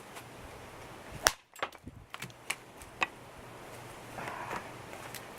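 A CPM 15V chopper knife strikes hard, solid wood in one sharp, loud chop, followed by a few smaller knocks and clicks as the blade settles and is handled.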